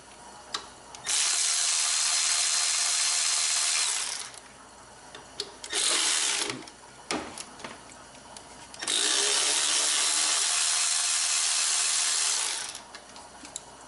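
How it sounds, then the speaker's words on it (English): Power tool loosening the power steering pump bolts during an SRT-4 engine removal, three long loud whirring bursts separated by brief pauses and small clicks, close up with no talking. "There is 3 bolts for the power steering pump right down here. We're going to remove those 3 now."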